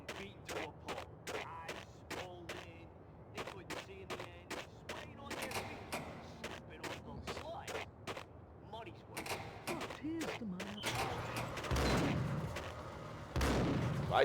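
Rapid bursts of video game gunfire crack in dense, repeated volleys, loud and near, while voices talk over the shooting.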